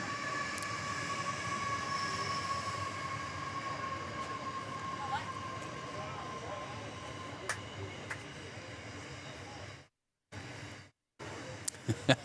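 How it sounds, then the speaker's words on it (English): A big diesel train runs past near an outdoor sports ground, a loud, sustained rumble with droning tonal lines and rail noise that fills most of the stretch before cutting out abruptly near the end. "Well, that's a big train. Big diesel running past."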